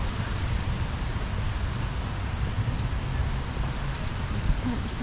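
Rain falls on a city street at night in Philadelphia's Chinatown, a steady close hiss and patter of drops on pavement with no break throughout.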